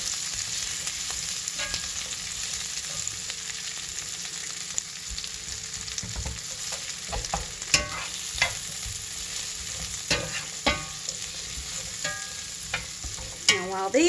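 Vidalia onions sizzle steadily in a skillet on the stove, with scattered spatula scrapes and clicks, one near sharp scrape toward the end.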